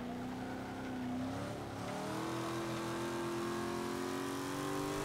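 Chevrolet Camaro Z28 engine racing in Forza 5, a steady loud in-game drone that dips briefly and climbs again, rising and holding at high revs with no talk over it.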